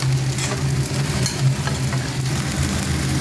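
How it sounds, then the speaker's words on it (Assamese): Fiddlehead fern (dhekia) frying in a pan with rice, green chilli and fried vegetables, a steady close sizzle with stirring scrapes running throughout beneath a low constant hum. "অকণ ইয়াত ঢেকীয়া ভাজিছোঁ"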